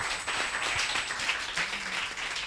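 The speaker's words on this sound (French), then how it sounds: "Est-ce qu'on peut applaudir pour elle, la classée 3e?" A studio audience at a singing competition applauds for a 12-year-old contestant who placed third, giving a soft, steady wash of clapping that runs through the whole moment.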